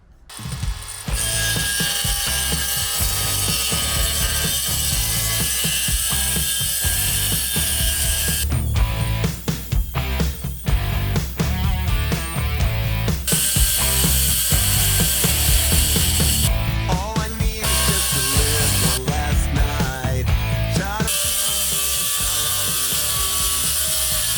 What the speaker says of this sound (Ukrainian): Так, давайте поріжемо тепер бордюр, побачимо, як ріже.